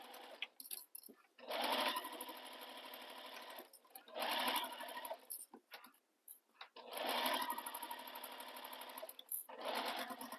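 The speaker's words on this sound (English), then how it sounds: "You should be stitching just beside it." A sewing machine stitches a seam on a fabric Christmas stocking in several quick bursts, its rapid mechanical whir starting and stopping with short quiet pauses between runs, close and clear with no talking.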